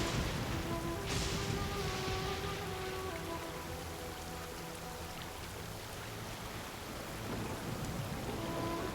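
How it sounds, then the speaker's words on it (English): Steady rain pours in a video game scene, with a dull rumble of thunder rolling underneath, continuous and moderately loud with no speech. "Rain."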